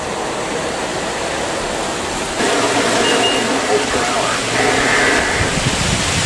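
Storm rain and wind roaring steadily outside a house during a power outage, a broad wash of noise that swells louder partway through.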